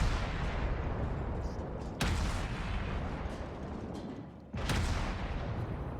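Bogatyr Tier 3 Russian cruiser guns firing in World of Warships, two loud booming salvos a couple of seconds apart, each a sharp blast trailing into rumbling decay over a steady background roar.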